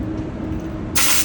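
A paint spray gun set to about 30 PSI and fired with air only lets out a sudden bright hiss. The burst starts abruptly partway through and runs steadily to the end over a constant low rumble.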